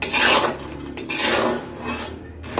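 Shelled peanuts roasting in sand in a pan while being stirred, a loud gritty raspy scraping in uneven swipes with brief pauses between strokes.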